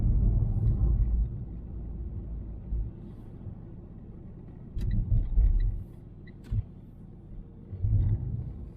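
A small 70-horsepower car drives along a road, its low engine and road rumble steady throughout with a few louder surges, heard from inside the cabin.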